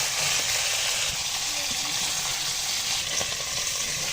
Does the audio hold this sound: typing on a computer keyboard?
no